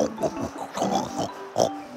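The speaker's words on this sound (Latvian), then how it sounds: "Gan ruksīši," Cartoon piglets oink in a series of short grunting snorts, several quick squeals spread across two seconds at moderate loudness, with no talk over them.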